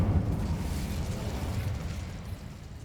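Incendio fire spell cast in Hogwarts Legacy: a deep whooshing burst that flares at the start and settles into a steady low roar of flame.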